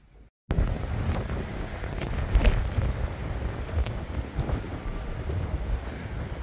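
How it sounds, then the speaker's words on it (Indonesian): Strong wind gusts roar into the microphone outdoors, a loud continuous buffeting rush that swells and dips over several seconds, heard alone after a brief quiet start. "Pas lagi ada angin kencang."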